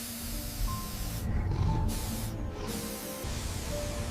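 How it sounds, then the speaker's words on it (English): A steady spray aimed at a python's head hisses in bursts, cutting out briefly twice, over a rumbling, rustling background with no voices. "The rescuer aims the spray at the python's head."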